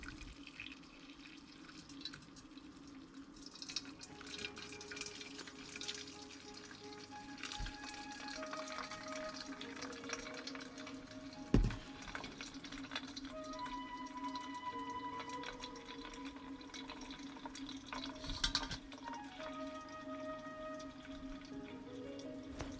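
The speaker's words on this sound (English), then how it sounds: "I'm going to very carefully strain the liquid from the pulp" Soy milk is strained from soybean pulp, the liquid pouring and splashing softly and continuously nearby, with a few brief clinks against the bowl along the way.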